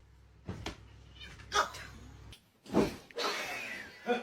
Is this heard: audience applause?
no